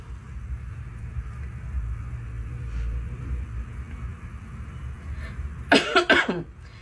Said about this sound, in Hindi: थोड़ी सर्दी खांसी हो रखी है भाई को।